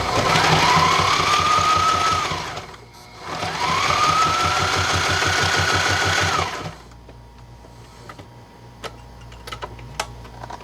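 A sewing machine stitches dodger fabric for a sailboat enclosure in two loud, fast bursts with a rising motor whine, then falls to quieter ticking and handling sounds.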